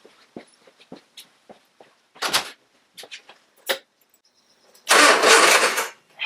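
A rebuilt Spitfire-specification engine in a Triumph Herald 13/60 cranks over in short bursts, with clicks and brief starter whirs before a longer sustained spin, close and fairly loud with quiet gaps between.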